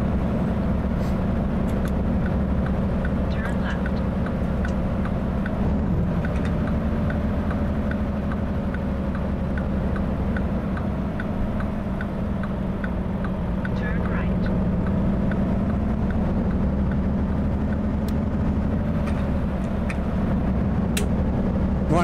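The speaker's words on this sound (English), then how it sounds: "The sound of this engine, or lack of sound." A Mack Anthem Black Edition truck engine idles in American Truck Simulator, a quiet, steady low rumble running throughout, with someone talking over it.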